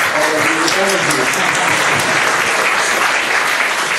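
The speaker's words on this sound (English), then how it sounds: "maybe a round of applause for our brave volunteers" Seminar audience applauding brave volunteers, loud continuous clapping that stays full and even throughout, with faint voices mixed under it at the start.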